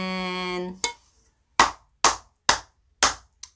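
Several sharp hand claps ring out one at a time with short gaps, following a brief sustained musical tone at the start.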